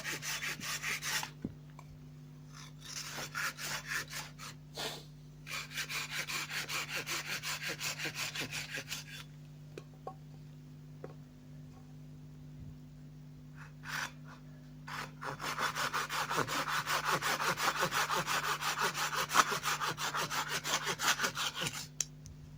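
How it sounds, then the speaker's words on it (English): A hand saw cuts through the tips of a carved wooden spoon and its handle, steady back-and-forth rasping strokes close by in three bursts separated by short pauses, the last run the loudest. "saw off the tip of the spoon and the tip of the handle."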